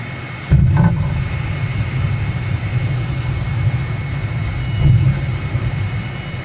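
Aermacchi MB 339 jet in Microsoft Flight Simulator 2020 during a go-around, a steady loud low engine roar with two brief louder surges, no talking.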